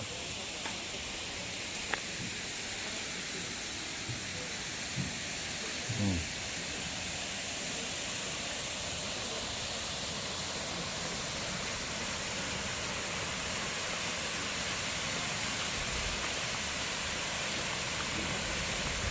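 Steady, dense roar of Sedudo waterfall in Nganjuk, Indonesia, fills the whole clip, a constant broadband rush with no pauses, fairly distant and even in loudness.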